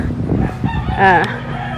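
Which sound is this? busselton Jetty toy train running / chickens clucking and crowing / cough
chickens clucking and crowing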